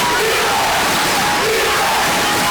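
Roaring crowd in a high school gym during a Lorain vs. Bedford boys' basketball game, a constant loud wall of cheering and yelling throughout.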